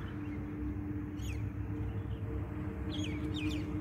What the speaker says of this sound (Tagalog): Grupo ng mga mina birds.